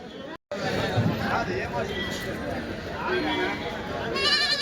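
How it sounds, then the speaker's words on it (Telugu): Goats bleat intermittently amid a busy crowd's chatter and loud nearby talking at the weekly Kadiri goat market, a steady market din throughout. "మేకలు మేకపోతులు ఏ విధంగా వచ్చాయని చూడొచ్చండి."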